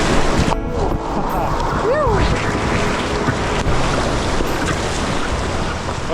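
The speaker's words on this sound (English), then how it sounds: "we've just come to the next couple of rapids" Rushing river rapids heard from a packraft, a broad, loud roar of water mixed with wind buffeting the microphone, with a brief whistling tone and a person speaking partway through.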